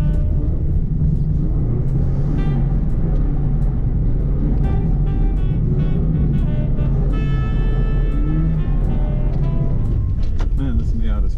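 A Mazda Miata driving slowly, its engine a steady low rumble running throughout while people talk over it.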